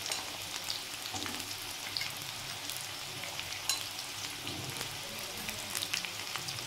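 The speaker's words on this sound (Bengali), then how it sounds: "গাজর আর বিনস একসঙ্গে দিয়ে দেব।" Carrots and beans frying together with cauliflower in a pan, a soft, steady sizzle broken by light stirring scrapes and crackles, fairly faint, with no talking.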